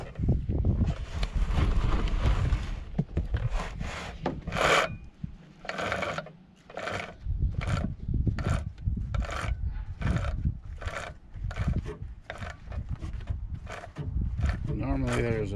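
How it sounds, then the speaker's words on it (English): A chainsaw chain being sharpened with a hand file, a rhythmic rasping of repeated strokes, close and fairly loud, with about a dozen evenly spaced scrapes after some initial handling noise. "Let's sharpen this chain up"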